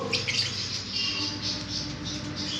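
Pet lovebirds and parrots kept at home, including violet masked and violet parblue lovebirds and pineapple conures, squawking and chattering in a continuous, busy shrill chorus close by, with no talk.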